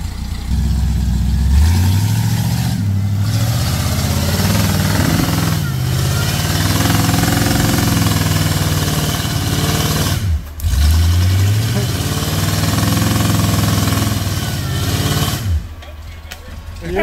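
An off-road rig's carbureted engine runs loudly while the vehicle is tipped backwards, with steady rough rumbling, revs that rise and fall, and two brief dips in the sound; voices speak over it.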